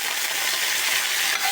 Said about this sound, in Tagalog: Ihapok lang natin ang sibuyas